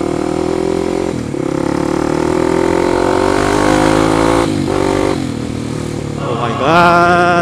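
Kawasaki KLX 250 supermoto motorcycle, a 2014 250cc single, rumbling steadily while ridden, its engine note rising and falling with throttle changes and a sharp rev climb near the end, loud and close throughout.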